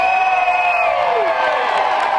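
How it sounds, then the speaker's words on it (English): A stadium crowd at a St. Louis Cardinals opening day game cheers and applauds for the team's organist, a loud, dense wash of clapping and whoops with an announcer's voice trailing off at the start. "how about a huge round of applause for the St. Louis Cardinals organist, Dwayne Hilton"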